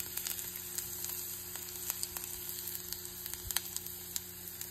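Ginger and garlic sizzle in hot chili oil, a faint continuous crackle with scattered small pops over a low electrical hum, no voices.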